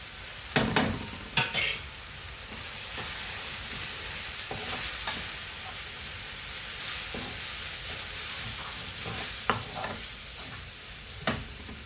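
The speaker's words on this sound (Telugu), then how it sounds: "చూడండి, మసాలాలన్నీ వేసుకున్నాం, బాగా మిక్స్ చేస్తున్నాను" Spices being stirred and fried in a pan for a kidney bean and beetroot masala curry, a continuous sizzle with sharp scraping and tapping strokes of a spatula scattered throughout, close by and without talk.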